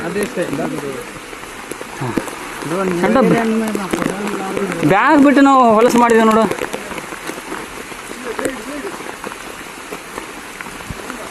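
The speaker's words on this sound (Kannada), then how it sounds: "ಜೋರು ಮಳೆ ಬರತೈತಿ" Steady, heavy monsoon rain hisses throughout at Dudhsagar waterfall in Goa, with people talking over it in the foreground.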